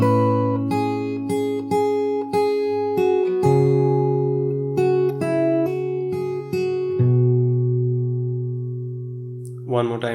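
Fingerstyle acoustic guitar plays the full part of a song at an easy pace, steady plucked melody notes over ringing bass notes, close and clear, ending with a brief scrape of handling noise.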